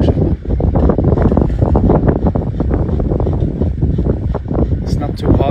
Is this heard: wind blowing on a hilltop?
yes